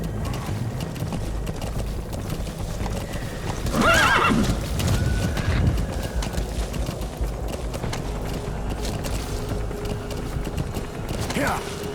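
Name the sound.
horse galloping and neighing in video game Metal Gear Solid V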